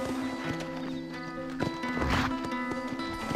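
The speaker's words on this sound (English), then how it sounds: "Galloping horse, there's yours" A galloping horse in the Western video game Red Dead Redemption, its steady hoofbeats running under music, with a brief neigh or whinny partway through.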